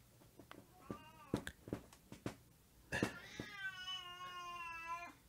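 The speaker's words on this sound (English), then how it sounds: "I hear the cat." A cat meows in a short series of close, clear, pitched calls that build to a longer drawn-out meow at the end, with a few soft knocks between them.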